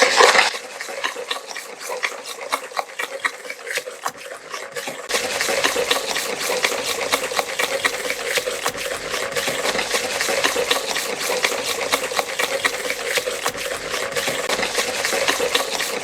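Brown sugar is stirred into batter in a mixing bowl, a continuous close scraping and swishing that starts lighter and thickens into denser, busier mixing after a few seconds.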